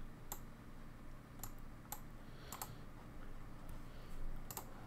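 Computer keyboard keys clicking a handful of times at an uneven pace, a quick key shortcut among them, close and fairly quiet over a steady background hiss, with no talking.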